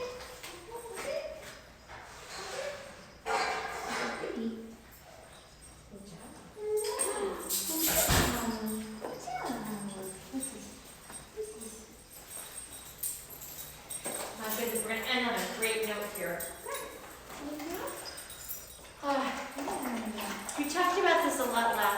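Puppies at a play-and-train session whimper, yip and bark in short bursts, with a trainer's voice talking over them throughout and occasional thumps and scuffling nearby.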